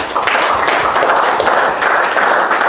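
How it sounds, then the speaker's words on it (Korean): An audience at a cultural lecture claps together in a loud, steady burst of applause, close and continuous for a few seconds with no talk over it. "박수 한번 쳐주시죠."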